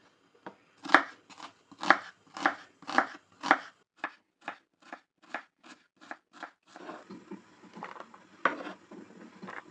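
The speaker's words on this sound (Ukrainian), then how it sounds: "Цибульку потрібно порізати маленькими кубиками." A knife chops an onion into small cubes on a cutting board in steady, crisp strokes, slowing slightly at first then quickening into lighter, faster cuts, close and clear.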